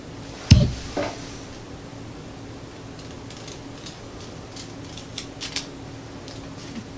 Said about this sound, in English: Let's go ahead and just cut some paracord.